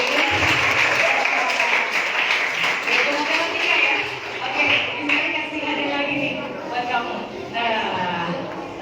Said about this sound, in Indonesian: tepuk tangan dulu dong buat Jocelyn